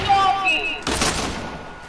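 Sniper rifle shots fired in a multiplayer shooter game, a sharp broadband crack near the middle with a decaying tail, after some tonal game sounds, with a voice talking over it.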